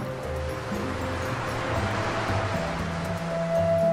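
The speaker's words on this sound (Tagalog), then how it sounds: "at dagat." Sea waves roll and wash in a steady broad rush that swells slightly toward the end, heard beneath faint background music with no speech.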